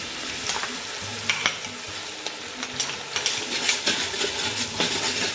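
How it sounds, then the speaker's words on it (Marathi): Onions fry in a pan for spiced masale bhaat while garlic-ginger paste is added, giving a constant near sizzle broken by repeated spatula stirs and scrapes, with no talking. "कांदाही छान तळत चालला आहे, तर त्यात लसूण आल्याची पेस्ट टाकून घ्यायची आहे"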